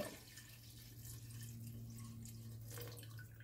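Water pours steadily into a pot for homemade gelatin. The sound is faint and continuous over a low background hum.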